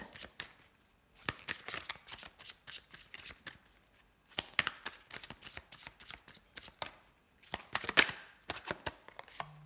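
Oracle cards being shuffled by hand, with bursts of quick riffling and crisp slaps separated by short pauses, close and fairly quiet with no talk.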